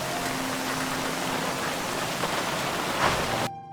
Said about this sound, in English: the Sound of Rain is a subtle yet powerful audio mod that enhances how raindrops interact with different block types